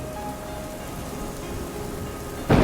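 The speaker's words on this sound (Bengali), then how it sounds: "বৃষ্টি আর থামার নাম নিচ্ছিল না" Steady rain falls in a soft continuous hiss, with a sudden louder splash of heavier rain at the very end.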